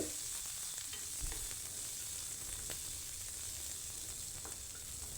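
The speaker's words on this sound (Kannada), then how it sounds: "ಹಾಗೆ ಈರುಳ್ಳಿ ಮತ್ತು ಹಸಿಮೆಣಸಿಕಾಯಿನ ಹಾಕ್ಕೊಳ್ತಾ ಇದ್ದೀನಿ. ಹಾಕ್ಕೊಂಡ್ಬಿಟ್ಟು ಈರುಳ್ಳಿ ಸ್ವಲ್ಪ ಸಾಫ್ಟ್ ಆಗೋವರೆಗೂ ಚೆನ್ನಾಗಿ ಹುರ್ಕೋಬೇಕು" Onions and green chillies frying in a pan, a faint, even sizzle with a few soft stirring scrapes, quiet and close with no voices.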